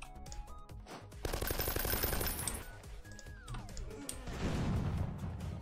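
Gunfire in the Roblox game Breach Team, rapid automatic bursts mixed with other game effects and a sweeping tone, fairly loud with no talking.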